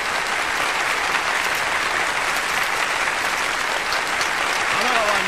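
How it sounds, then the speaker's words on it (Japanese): Dense crowd applause in the video game Yakuza: Like a Dragon during an election results announcement, a loud sustained roar of clapping that stays even throughout, with a faint tonal sweep near the end. "拍手の音うるさ。"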